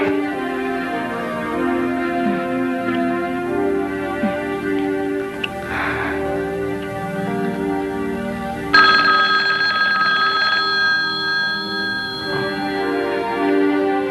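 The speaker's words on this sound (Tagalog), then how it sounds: "Joe, telepono." A telephone rings with a steady electronic tone running throughout, and a sharper second ringing tone comes in partway through, with no talking over it.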